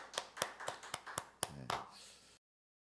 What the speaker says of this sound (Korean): 우리 현준이 생일 축하 박수 한번 보내드립니다.